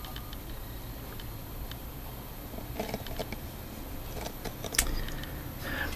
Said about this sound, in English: I am hearing a couple relays clicking in here